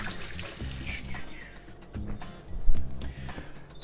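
Running tap water splashes continuously into a kitchen sink as hands are rinsed during chicken preparation, with a brief louder gush near the end.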